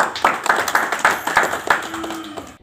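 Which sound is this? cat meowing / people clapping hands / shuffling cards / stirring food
people clapping hands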